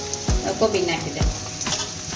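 Cabbage hits hot oil in a pan for veg hakka noodles, giving a close, bright sizzle with a few sharp splashes and stirring scrapes.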